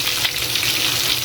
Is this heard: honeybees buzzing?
no